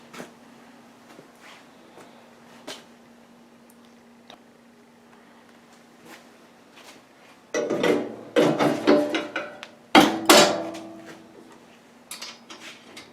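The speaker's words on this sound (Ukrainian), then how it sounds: "Складаємо млин, починаємо працювати." A hand mill grinding ingredients for a bee feeding paste, crunching in loud irregular bursts of clatter and scraping after a quieter stretch of light ticks and a low steady hum.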